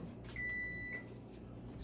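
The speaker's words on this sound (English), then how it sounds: "that was my timer" A kitchen timer gives one steady electronic beep of about half a second, clear and fairly close against a quiet room hum, while sourdough baguettes are being baked.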